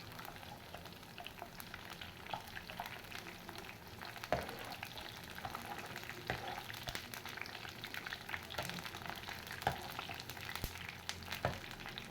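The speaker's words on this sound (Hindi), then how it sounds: "अब हम पकोड़े फ्राई कर लेते हैं।" Pakoras deep-frying in hot oil for a kadhi pakora dish, giving a steady, dense sizzle and crackle that carries on without break, with a few sharper pops, fairly close and alone with no talk.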